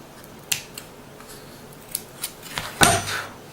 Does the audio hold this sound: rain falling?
no